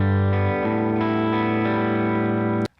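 Distorted electric guitar playing a chorus riff: loud, sustained chords with a steady driving rhythm that cut off abruptly at the end.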